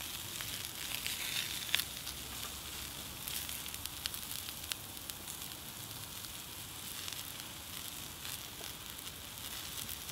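Sweet potatoes and mixed vegetables sizzle on a hot plancha griddle, a steady, even crackle and hiss running throughout with a few sharper pops, alone with no talking.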